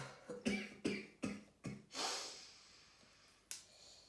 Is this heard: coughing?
yes